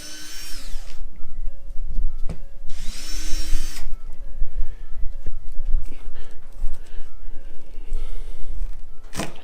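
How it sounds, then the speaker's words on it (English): A powered screwdriver whirs in several loud, close bursts while removing Phillips head screws on an RV camper, with a higher-pitched run near the start and rattling handling noise between bursts. "I just took two screws out of this with a screwdriver"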